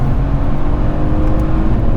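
A Mercedes E63 on its stock exhaust accelerates nearby, giving a loud, deep, continuous engine drone with no talk over it.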